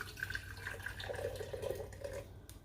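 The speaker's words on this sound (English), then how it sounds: "I'm going to go ahead and put a little bit of hot water down here in the bottom" Hot water pours into a canning jar already holding a teaspoon of canning salt, a faint, close trickle and splash lasting a couple of seconds under light room noise.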